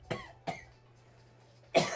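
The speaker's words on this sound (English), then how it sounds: "So I move away from the mic to cough profusely." Three separate coughs, close and fairly loud: two quick ones in succession, a pause, then a third, harsher cough.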